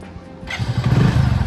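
A motorcycle engine cranks and catches after a short quiet moment, then settles into a loud, steady, close-up idle rumble.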